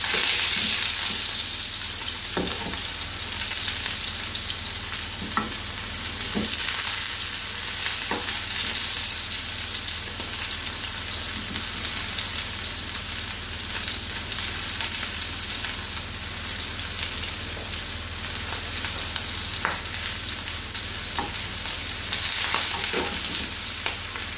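Steak searing in a hot frying pan, a loud continuous sizzle and crackle with scattered pops, steady for the whole stretch with no voices.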